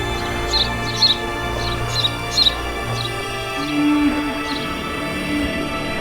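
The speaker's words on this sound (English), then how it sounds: "Tibetan mountain finches, spending a short summer where 4 seasons can be packed into a single day." Short, high chirping calls from small birds, Tibetan mountain finches in the Himalayas, several brief bursts in the first half, fairly faint over a low steady background rumble.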